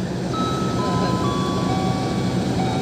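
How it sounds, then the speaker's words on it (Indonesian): Two CC206 locomotives at a station, hauling the Argo Bromo Anggrek and Argo Parahyangan trains side by side, give a steady loud rumble with faint high whining tones and a little background talk. "ini kereta api Argo Bromo Anggreknya berdampingan dengan kereta api Argo Parahyangan"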